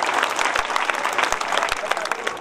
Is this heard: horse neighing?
no